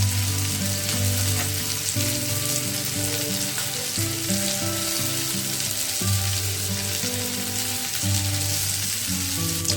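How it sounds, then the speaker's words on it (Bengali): Chicken pieces frying in butter in a pan, a steady loud sizzle with continuous crackling and no voices, close up throughout. "আর যে চিকেনগুলো আছে সেগুলো একই প্রসেসে ভেজে নেব"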